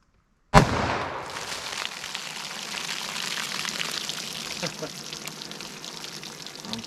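.44 Magnum Buffalo Bore round fired once, a sharp loud crack after brief silence, then a long decaying outdoor rumble with speech beneath.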